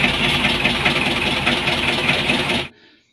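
A car engine with radiator water leaking into it idles with a steady rumbling chug for a few seconds, then cuts off abruptly into silence.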